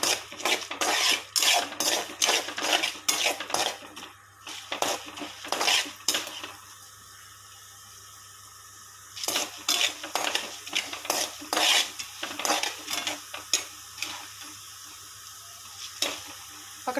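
Curry leaves frying in a little oil in a pan, a metal spoon clinking and scraping steadily against the pan over a soft sizzle, near and clear, without speech.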